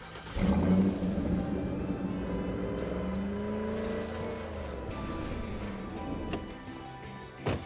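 A car in the video game State of Decay 2 drives with a steady engine drone that rises and falls as it revs and accelerates, loud and close, with no talking.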